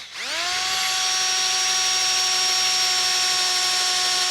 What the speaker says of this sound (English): a 3/4 inch drill bit should work pretty well here